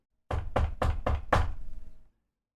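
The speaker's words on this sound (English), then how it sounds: "A moment later, there's a knock on the door." Five firm, evenly spaced knocks on a door sound close and clear, each a hollow thud with a short ring, followed by silence.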